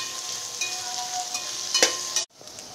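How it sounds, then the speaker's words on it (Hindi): Onions and a spoonful of cumin seeds frying in hot oil for a Bohra-style akhni pulao, a steady close sizzle with a brief stirring clatter near the end before it cuts off. "उसमें सिर्फ एक चम्मच हम जीरा डालेंगे, गरम प्याज डालेंगे और लाल होने तक हम इसको भूनेंगे।"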